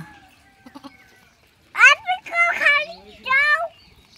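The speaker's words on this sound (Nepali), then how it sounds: "नयाँ बेबी बाख्राको लक्ष्मीको आगमन भएछ" A newborn goat on a farm bleats in several loud, close, wavering cries, following softer sounds near the start.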